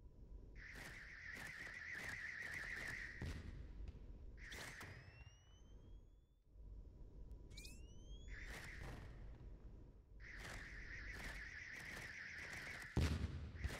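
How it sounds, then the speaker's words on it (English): Trek-style phaser lasers fire in the space game Starcom: Unknown Space as sustained buzzing, warbling beams in several long bursts, with brief rising electronic chirps between them and a low rumble underneath. "the phaser noise that the lasers make"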